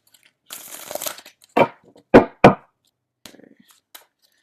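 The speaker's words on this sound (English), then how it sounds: "I'm just going to finish shuffling here" A deck of tarot cards being shuffled up close, a brief riffling rush followed by several sharp taps and snaps of cards, then a few faint clicks.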